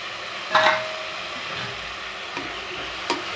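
Fresh mint and coriander leaves sautéing in a pan for chickpea biryani, a soft continuous sizzle with one sharp clink of a spoon early on and a couple of light taps later.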